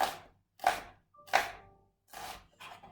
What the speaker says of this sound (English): I'm going to slice it up into nice thin slices